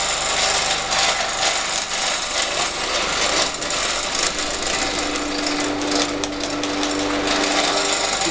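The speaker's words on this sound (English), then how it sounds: "Now we just slowly feed the sand through." Foundry facing sand is fed slowly through a sieve, producing a steady gritty hiss and scraping rasp that carries on evenly and fairly loud throughout, close by, with no talking.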